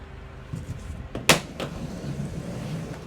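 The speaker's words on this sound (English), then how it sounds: "So just open the double doors just so we'd be able to get this battery out." Double doors in an Audi parts department are swung open, giving a few soft knocks and shuffles before one sharp latch clack, then a quieter thud and low room rumble.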